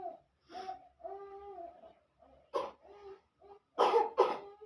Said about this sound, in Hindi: हमारे बाबा को खांसी हो रहा है, सब बीमार है घर में अभी